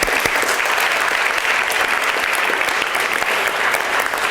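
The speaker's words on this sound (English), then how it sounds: "Let's give her another round of applause" Dense audience applause at a youth science opening ceremony, loud and continuous clapping from a large crowd filling the whole stretch without a break.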